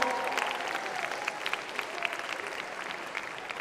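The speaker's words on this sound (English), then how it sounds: "let's give a big round of applause to Demar Event," Audience applause at a conference opening talk, a sustained even clapping from a crowd, moderately loud and continuous throughout.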